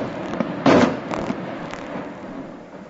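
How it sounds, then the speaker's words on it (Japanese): Aerial fireworks at a rocket launch site pop in several quick bursts, one louder crack followed by fainter distant reports over a murmuring background. "はい、打ち上げ花火"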